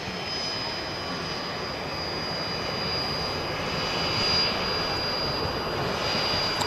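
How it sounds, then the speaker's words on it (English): Lauda Airbus A320 airliner lining up on runway 23 right at Manchester Airport, bound for Zagreb: a steady, moderately distant engine hum and broadband roar, with a faint high whine running throughout. "Just lining up on 23 right is a Lauda A320 off to Zagreb, flying on behalf of Ryanair."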